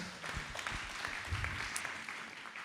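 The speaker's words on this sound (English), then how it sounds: "Maybe we can give them a round of applause." An audience at a candidates' forum applauding the candidates: a short, fairly faint burst of scattered clapping from a room of people.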